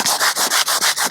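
Sandpaper rubbed by hand over a boat hull to key the surface, six or seven quick rhythmic back-and-forth strokes, close and loud with no talking.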